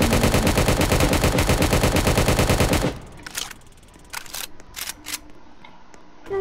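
Rapid gunfire from the shotgun in Roblox Prison Life, a loud dense burst of repeated shots for about three seconds, followed by quieter scattered clicks and game sounds.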